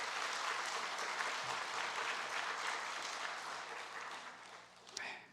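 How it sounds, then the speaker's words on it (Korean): A church congregation at an Easter Sunday service claps warmly to celebrate a student's baptism, a full, even round of applause that gradually fades, ending with a final sharp sound. "우리 다시 한번 우리 예원이를 위해서 박수로 축하해 주시기 바랍니다."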